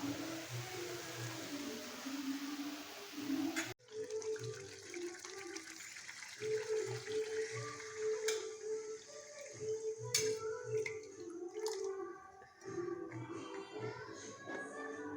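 Water pours into a cooking pot of simmering vegetable curry on a home kitchen stove, a steady gushing stream that breaks off abruptly, then continues in shorter splashy pours, fairly quiet and close.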